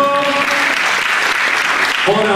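Dense applause from an audience at the Miss Skarżyska-Kamienna 2019 beauty pageant gala, loud and steady clapping filling the hall, with a voice and music briefly heard at the start and end.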